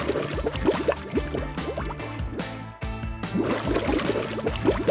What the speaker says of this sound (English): I emptied the water into the lock nearby.